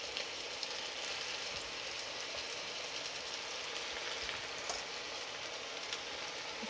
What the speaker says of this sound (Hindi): इसको थोड़ा थोड़ा डाल के फ्राई करेंगे